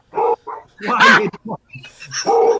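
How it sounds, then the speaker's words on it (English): Several dogs, an Irish setter among them, bark and yip in close, loud bursts, with a whimpering note mixed in, overlapping a voice speaking nearby. "I'm getting heckled by my own dogs."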